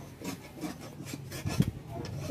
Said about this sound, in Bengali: এবার লেচিটা কেটে নেব এরকম লেচি কাটছি লুচির থেকে একটু বড়